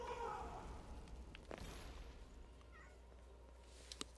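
A house cat meows a few times in a room, fairly faint under steady background hum, with a sharper click near the end.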